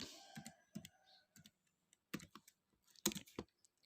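Quiet, sparse keystrokes on a computer keyboard while entering a Linux terminal command, coming in small clusters of clicks with gaps between them.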